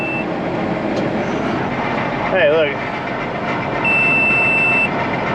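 A machine gives a steady electronic beep for about a second while unloading, heard over constant engine rumble and farm machinery noise; a brief warbling tone sounds earlier, and a voice speaks briefly.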